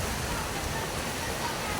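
Heavy rain water pouring out of a pipe during a downpour, a steady broadband rushing gush that fills the whole clip at moderate level.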